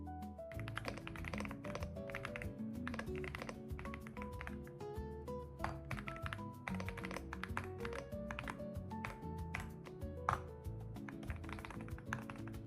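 Steady typing on an Aula F75 mechanical keyboard with deep, muted thocky keystrokes in a quick, continuous rhythm, close and clear, no voices.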